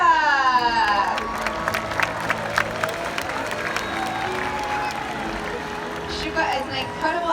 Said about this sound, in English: Everyone give a big round of applause to Shouka!